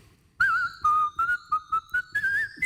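A whistler whistles a lively tune, clear and close, in a series of short bouncing notes with a few longer held tones.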